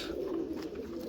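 A red rose breed pigeon gives a soft, low coo, faint and brief with light room noise around it.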